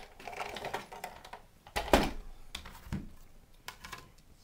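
A manual die-cutting machine cranks cardstock and a standard cutting pad through its rollers to cut out flower shapes, giving a series of close mechanical clunks and grinding rasps with one loud thump in the middle.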